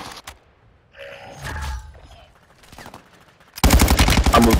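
Rapid automatic gunfire in a first-person shooter game bursts in loudly near the end, a fast rattling stream after quieter game noises and movement.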